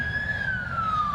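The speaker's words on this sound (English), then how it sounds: "We always got to get a siren in." Emergency vehicle siren wails outdoors in Wesley Chapel, Tampa, Florida, a single sustained tone sliding slowly downward as it passes, moderately loud over low rumbling traffic.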